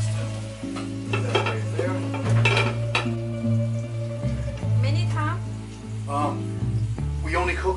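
Meatballs cooking halfway in a pan give a steady frying sizzle with stirring and scraping of pots and utensils throughout, while voices talk over it.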